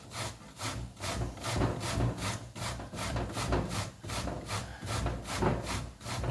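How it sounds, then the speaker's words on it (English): A courgette is grated by hand on the coarse side of a grater in a kitchen, giving a steady series of rhythmic rasping strokes, roughly two per second, close and fairly loud with no talking. "We'll just grate this like that, and the other part."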